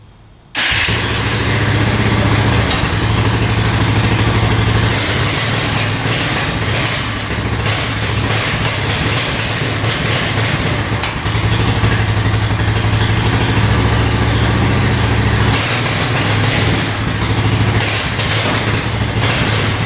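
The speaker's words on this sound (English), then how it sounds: "So with choke on, it seems to be running a lot better." A Honda ATV with a suspected too-small pilot jet idles with the choke on after cranking into life, its engine running loud and steady with a rough, pulsing low throb for the whole stretch, without any talk.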